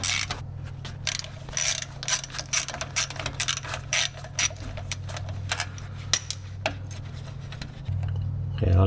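A ratchet loosens 13 mm bolts holding a car's factory sway bar, giving a close, rapid series of metallic clicks in irregular bursts over a low background hum.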